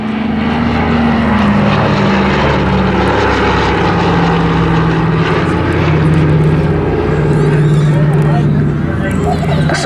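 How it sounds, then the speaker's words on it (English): The twin Pratt & Whitney Twin Wasp radial engines of a Dakota at an airshow display drone loudly and steadily, a deep throbbing roar with a pulsing low rumble, close by and continuous. "The sound you hear today are the 2 Pratt & Whitney twin Wasp radial engines"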